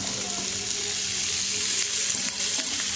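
Curry leaves frying in hot oil for a chicken sukka, a steady, close, loud sizzle that hisses continuously throughout without a break.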